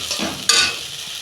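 Prawns cooking down with masala in a pan over a low gas flame, a steady sizzle that flares louder halfway through as they are stirred, close and alone with no talk.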